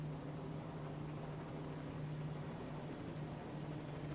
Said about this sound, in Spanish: Este es un helicóptero